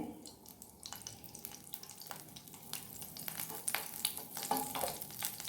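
Oil and salted butter sizzle and crackle steadily in a frying pan while cooking egg tava pulao, soft and close, with occasional stirring scrapes and clinks.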